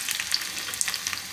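Garlic frying in oil crackles and spits close up, a brisk, bright sizzle with quick popping bursts and no voices.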